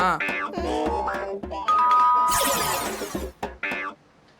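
A doorbell chimes amid a busy mix of music and voices, with a bright ringing tone standing out midway.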